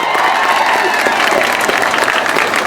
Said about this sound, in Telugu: గట్టిగా చప్పట్లు కొట్టండి